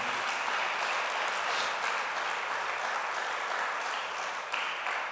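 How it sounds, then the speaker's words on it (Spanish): Church congregation applauding at a Spanish-language service, a dense, sustained wash of clapping from many hands that carries on evenly for several seconds with no talk over it. "Denle un aplauso a Él por esta"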